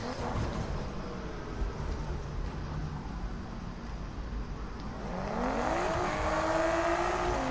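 An untuned car driving in a PS4 driving game: a steady engine drone that swells and rises in pitch toward the end as the car accelerates, with no talk.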